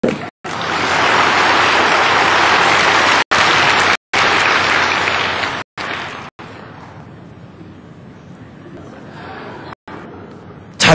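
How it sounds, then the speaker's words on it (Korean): A church congregation gives the pastor a loud, sustained round of applause, dense clapping that fills the room with a few abrupt cuts, easing slightly toward the end. "목사님 위해서 박수 한번 해주세요."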